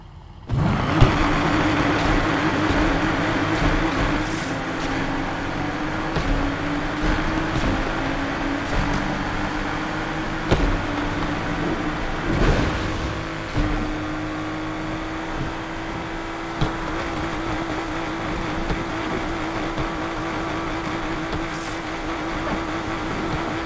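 Engine roar from a Nissan 240Z in Need For Speed Unbound, fitted with a swapped 2.9-liter V6 or 7-liter V8, holds steady and loud for the whole stretch with faint shifts in pitch and no talk.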